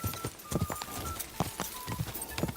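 A horse gallops in Kingdom Come: Deliverance 2, the video game, with quick rhythmic hoof clops repeating steadily and close up over a faint background.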